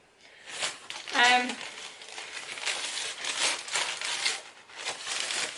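Packaging crinkles close by in irregular rustling bursts, with a sharper scrunch near the start and softer crackles continuing throughout.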